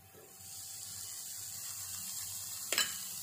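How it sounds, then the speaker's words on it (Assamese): Chopped tomatoes with garam masala and chili flakes fry in a pan for mutton curry, giving a steady soft sizzle that builds after a moment, with a brief scrape or stir near the end. "এইখিনি মই বিলাহীখিনি যেতিয়ালৈকে গলে তেতিয়ালৈকে ভাজি থাকিম।"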